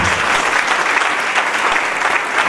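A church congregation applauds loudly, a dense, even wash of many hands clapping without pause, close and sustained.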